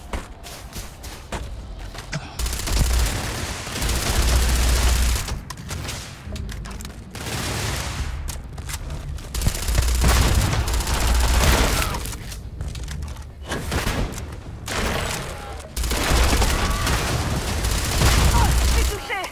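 Gunfire in the video game Starfield comes in repeated sustained bursts of shots with heavy low booms, loud and dense, over continuous game sound.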